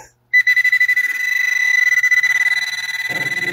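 Garrett Pro-Pointer 2 metal detector sounding off over a small gold nugget, a loud, close, rapidly pulsing electronic beep tone that begins abruptly and continues steadily, with a faint rustle near the end.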